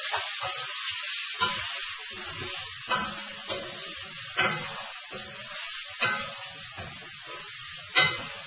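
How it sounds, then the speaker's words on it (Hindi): Salt, chili and turmeric stirred with a spoon in a hot frying pan for chicken jalfrezi, a continuous sizzle broken by regular scraping strokes every second or so. "थोड़ा सा चलाना है चम्मच के साथ इसको।"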